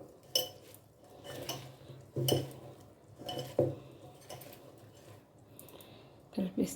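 A spoon stirs chikkudikaya curry with tamarind juice in a pot, giving intermittent clinks and scrapes against the metal at a few irregular points, soft and close, while a person talks.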